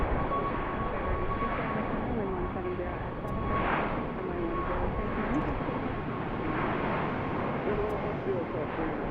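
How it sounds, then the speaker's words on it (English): A Southwest airliner takes off at BWI airport, its engines giving a broad, continuous rumbling roar that stays loud and steady throughout, with a voice occasionally heard over it. "And we got Southwest lined up to take off"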